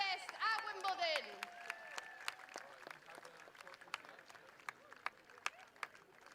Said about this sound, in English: Let's give Stefanos Tsitsipas a massive round of applause and all the very best at Wimbledon